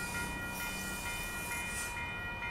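The Amtrak Coast Starlight, Train #11, rolls past the 98th Avenue crossing in Oakland, California, with a loud steady rumble of railcars and rhythmic wheel clatter, plus a sustained tonal ring that sounds like a horn or crossing bell.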